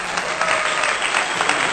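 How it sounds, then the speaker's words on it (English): One person claps their hands in a quick, steady run of close, bright claps that lasts under two seconds and stops abruptly. "Let me clap for you guys."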